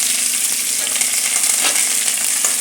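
Urad dal, chana dal, red chillies and curry leaves fry in hot oil with a loud, even sizzle. The hiss continues throughout, with faint stirring scrapes under it.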